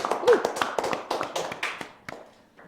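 A small audience at a podcast on the BPJAMSOSTEK JKP program gives a brief round of light, scattered clapping that starts quickly and thins out over a couple of seconds, with faint talk behind it.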